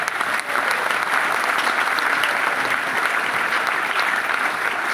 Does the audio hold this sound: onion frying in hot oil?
no